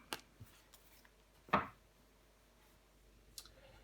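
A tarot card is laid down on a table, a single soft slap against the surface amid faint scattered clicks and light handling noise, close and quiet, with no speech.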